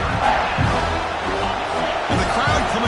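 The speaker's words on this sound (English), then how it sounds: "And the crowd coming to life here" Football stadium crowd roars and cheers steadily in a dense, continuous wash of noise, with a broadcast announcer speaking over it.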